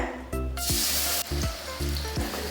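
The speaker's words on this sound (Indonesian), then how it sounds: "Ini minyaknya udah panas, kita tuang bumbunya." Ground spice paste for chicken laksa hits hot oil in a pan and erupts into a loud, hissing sizzle that then settles, with background music throughout.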